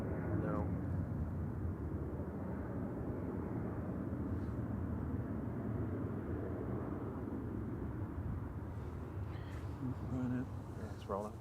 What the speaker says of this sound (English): Ryanair 3187 to Madrid, 9HQFN, departing, operated by Malta Air. 737-800.